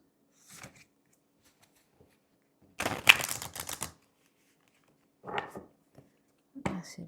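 A deck of oracle cards is shuffled in a quiet room, with a dense riffle of flicking cards lasting about a second, then a few softer card shuffles and taps after it.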